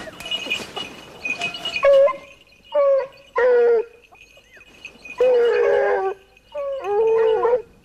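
Hunting dogs bay and howl on the trail of wild boar during a hunt, with several drawn-out, wavering cries rising one after another at close range and brief pauses between them.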